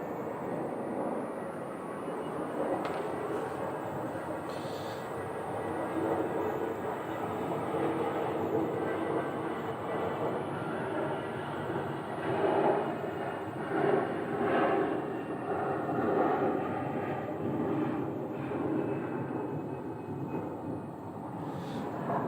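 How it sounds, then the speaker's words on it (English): A Southwest jet pushes back from the gate at Phoenix airport, with a continuous, moderately distant rumble and whine of jet engines on the ramp that swells slightly midway. "Flight 2279 headed to San Diego today is pushing back off the gate right now."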